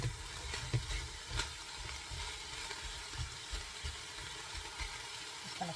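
White onions sizzle steadily in a hot pan, a soft continuous crackle with a few brief stirring knocks near the start, fairly quiet and with no voices.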